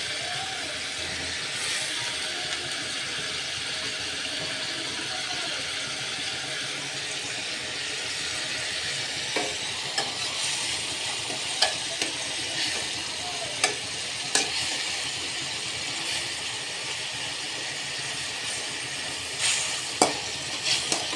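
Bottle gourd with hilsa fish sautéing in a pan, a continuous steady sizzle with scattered small clicks and taps of stirring growing more frequent later, no voices heard.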